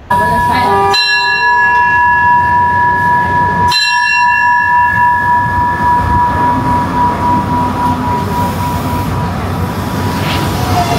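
A cheap local train in Pattaya, Thailand clangs a loud warning bell at the start, then rumbles steadily along the tracks with the bell tones fading out, heard from on board.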